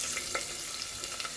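Bay leaf, garam masala and cinnamon frying in hot oil for a beef curry: a soft, steady sizzle with faint crackles and pops, quiet and close.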